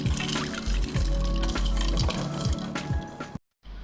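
Tender coconut water pours into a pineapple mocktail, a steady liquid splashing and trickling close by with a few drips, then cutting off abruptly near the end.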